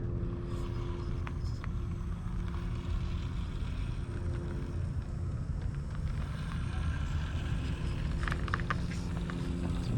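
A small FMS FCX18 LC80 brushless RC trail truck climbs a little outdoor ridge, its faint electric motor whine and crunching tires nearly buried under steady wind buffeting the microphone, with a few brief clicks and scrapes near the end.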